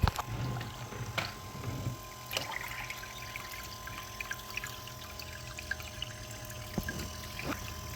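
Water pours and trickles steadily through a sluice box with sawtooth matting during a beach gold cleanup on Lake Michigan, a low constant wash with occasional splashes and clanks nearby.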